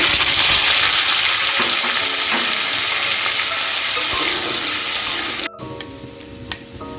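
Chopped raw green mango dropped into hot oil with a spice tempering for a sweet-sour chutney: loud, steady close sizzling and frying with stirring, then an abrupt drop to quieter bubbling with a few light clinks.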